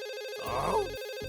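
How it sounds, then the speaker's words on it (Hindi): A telephone rings once, a steady electronic tone with a brief warbling chirp in the middle, heard indoors without talk. "ये जरूर उस कमबख्त सर का फोन होगा।"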